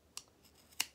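Two crisp scissor snips through fabric for a doll's dress, close up and fairly quiet, spaced a little over half a second apart against near silence.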